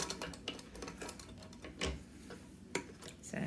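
A vintage sewing machine stitches in short bursts, quiet irregular mechanical ticks and clacks with small pauses, heard close and without talk.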